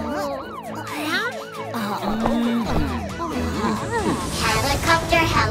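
A cartoon ambulance siren wails in repeated rising and falling sweeps within a children's rescue song, sung over by voices and backing music throughout.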